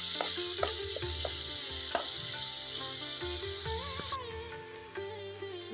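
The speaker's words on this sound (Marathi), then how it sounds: "कांद्याची पेस्ट परतून घ्यायची." Onion paste sautés in oil in a pan, a steady close sizzle with occasional stirring knocks, while faint tonal sounds run underneath and the hiss dips slightly toward the end.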